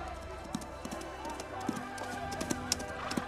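Horse hooves from an animated Pocahontas episode, heard as a series of distinct clip-clop hits against a busy background of music and effects, with a few sharp accents near the end.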